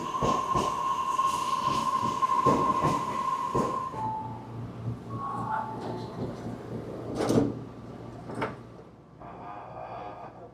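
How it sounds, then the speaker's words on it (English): Tobu Urban Park Line last train of the night at a station bound for Nanakodai, a steady mechanical hum and rumble with high tones and door clunks, then quieter platform sounds with a few sharp bangs. "here it is, the final train of the day. The Tobu Urban Park Line heading to Nanakodai Station."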